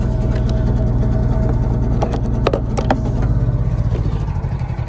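An RV engine with a crank-no-start fault runs rough, a steady loud low rumble with uneven pulsing throughout, no talk over it.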